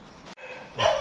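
A dog barks during a big beehive removal, one quick sharp bark rising at the end of a brief moment of outdoor background noise.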